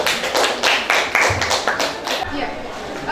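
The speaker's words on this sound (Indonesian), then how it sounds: "Kasih aplaus untuk kelompok 1 ya" A classroom group claps in applause for the first presenting group, a short burst of quick, uneven handclaps that tapers off after a couple of seconds.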